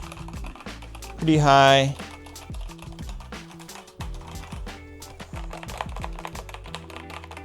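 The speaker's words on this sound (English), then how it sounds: "So here we have the MEK4 mechanical keyboard. It's a wired keyboard" Rapid clicky keystrokes on an MEK4 wired mechanical keyboard, an irregular stream of close, crisp taps running throughout, with a brief spoken remark and a short rising electronic tone near the start.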